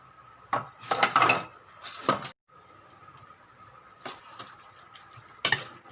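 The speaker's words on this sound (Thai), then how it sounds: "ใส่เลือดงัวเข้าไปแล้วนะคะ เราก็คนคลุกเคล้ากันนะคะ" Raw beef salad with cow's blood being stirred and tossed by hand, several wet clinks and scrapes against a bowl in short bursts with pauses, close and fairly loud, no talking.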